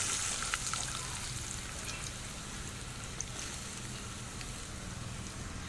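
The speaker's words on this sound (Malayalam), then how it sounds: "വെളിച്ചെണ്ണ ചൂടായതിനു ശേഷം നമുക്ക് ഇതിലേക്ക് അരിഞ്ഞ് വെച്ച് വലിയുള്ളി ചേർത്ത് കൊടുക്കുക" Chopped onions hitting hot coconut oil in a pan, a steady, dense sizzle and crackle that holds evenly throughout with no talking.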